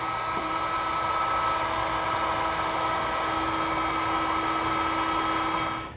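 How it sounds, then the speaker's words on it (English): A heat gun blows steadily while shrinking a butt connector on a fuse harness during trailer wiring on a 2019 Toyota, a constant close whirring hiss with no breaks, alone. "We'll then use a heat gun to shrink down our butt connector"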